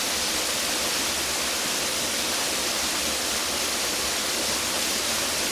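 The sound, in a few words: cold mountain stream water gurgling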